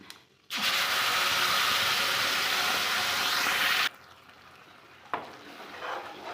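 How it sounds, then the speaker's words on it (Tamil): Ground masala for a fish curry sizzles and bubbles loudly in a pot for a few seconds, then cuts off abruptly, leaving a quieter kitchen background with a short clatter near the end. "நல்லா மசாலாவை கொஞ்சம் கொதிக்க விடலாம்."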